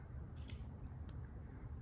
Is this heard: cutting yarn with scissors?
yes